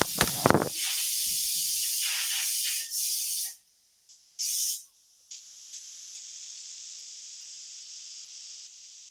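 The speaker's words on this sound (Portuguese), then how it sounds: "Panela de pressão é meio complicado" Pressure cooker releasing steam with a loud, steady hiss that cuts out briefly, then a short burst and a gentler continuous hiss, heard close up with no talking.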